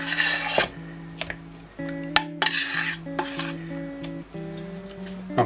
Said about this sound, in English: Then we'll mix these ingredients together along with our seasoning.